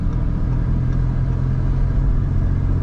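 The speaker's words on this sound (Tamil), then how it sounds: "ஸ்டில் நான் ஆக்சலரேட் பண்ணேன்னா வந்து வண்டி மூவ் ஆகுது" Skoda Slavia with Stage 3 modifications pulling under acceleration in sixth gear at around 60, a steady low engine drone and road rumble held at constant loudness throughout, no talking.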